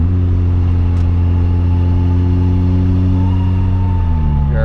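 A tuned turbo car with an aftermarket downpipe idles and revs steadily, its engine drone loud and close, the pitch dipping slightly near the end, with no distinct crackle standing out.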